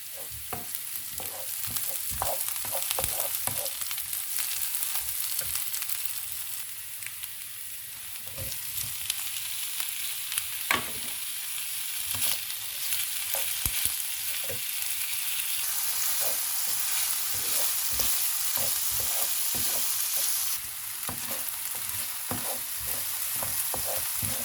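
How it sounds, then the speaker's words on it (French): Chopped onions frying in oil in a pan give a steady, close sizzle that runs throughout, broken by repeated scrapes and clacks of stirring. "j'ai mis mes oignons dans la poêle avec de l'huile. Je fais revenir un petit peu"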